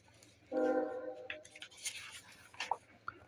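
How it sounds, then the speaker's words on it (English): A train passes at a distance, its horn sounding as a sustained tone before fading into a low rumble and scattered rattling, heard faintly with no speech. "Let's have a pause for the train. The endless trains."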